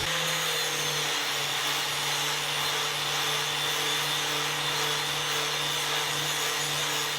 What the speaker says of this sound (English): Just going to use a wire wheel on my grinder and clean everything up.